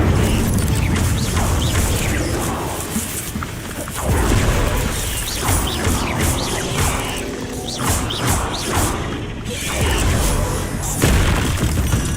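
The Incendio fire spell is cast in Hogwarts Legacy, producing loud, repeated booming bursts and crackling, crashing impacts that pulse in waves across the whole stretch.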